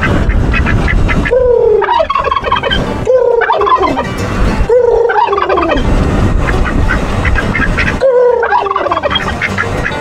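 Several farm turkeys gobble loudly and close by, in repeated overlapping bursts of rising warbling calls separated by short pauses, with no talk.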